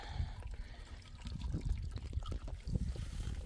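A small mountain spring on the Western Arthurs traverse in Tasmania trickles steadily from a tap-like spout, a soft, close, continuous splashing with irregular little gurgles and no voices.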